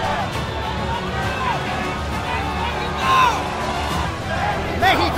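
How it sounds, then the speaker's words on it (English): A Muay Thai fight crowd roars and cheers in a continuous loud wash, with a commentator talking excitedly over it and swells of noise rising briefly. "Listen to this crowd right now, it's electric!"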